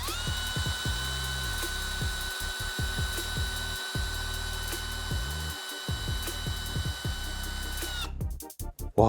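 A Festool CXS 18 cordless drill driver drives a long hex screw into wood, with a steady motor whine and low knocking for about eight seconds, then stops with a short clatter.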